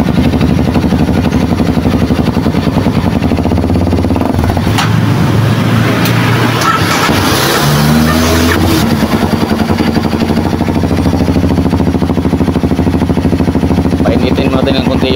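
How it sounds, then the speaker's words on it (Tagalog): Kawasaki KLX 230 motorcycle engine running steadily nearby, a loud continuous mid-pitched putter with a brief blip of throttle in the middle, someone speaking over it. "mandar na mga friend yung ating KLX 230"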